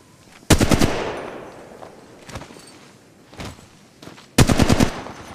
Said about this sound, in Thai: กำลังยิงต่อสู้